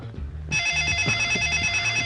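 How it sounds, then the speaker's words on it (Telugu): A telephone bell starts ringing abruptly, a loud continuous electronic ring with steady pulsing, over faint background voices. "అదిగో బాలు ఫోన్ అనుకుంటా."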